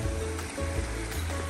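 Clean mountain stream water flowing on the Appalachian Trail in Pennsylvania, a steady, close, full rushing wash that holds even throughout.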